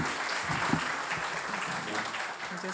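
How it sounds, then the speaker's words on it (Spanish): A crowd at a book launch event applauds a Supreme Court magistrate, with continuous, moderately loud clapping and faint murmured voices beneath it. "La recibimos con un fuerte aplauso"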